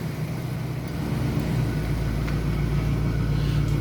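A steady, loud low rumble of a GM G-Body station wagon's engine idling after 24 years off the road, choke blocked open, close by with no talking.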